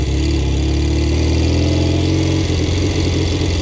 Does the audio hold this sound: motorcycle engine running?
yes